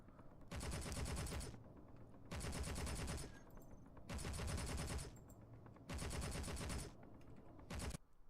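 Automated turret fire in Space Engineers comes in four sustained bursts of rapid gunfire, each lasting about a second with short gaps between, followed by a brief final burst, loud with no talk.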